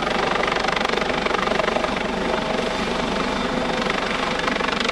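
A US Coast Guard rescue helicopter hovers during a search and rescue demonstration at an airshow over a lake, its rotor thumping and engine roaring loudly and continuously throughout.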